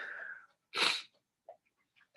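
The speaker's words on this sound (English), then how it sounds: "I'm about to sneeze, I think." A single sharp sneeze bursts out, close and loud, followed by a couple of faint breaths or small sounds.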